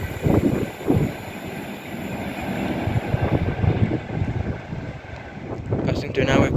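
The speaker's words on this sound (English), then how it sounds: "Passing through now, we've got an Avanti West Coast Class 390 Pendolino running from London Euston to Edinburgh Waverley" An Avanti West Coast Class 390 Pendolino passes through Rugby station at speed, making a loud, fluctuating rush of rail and wind noise with rumbling bursts, buffeted by microphone wind.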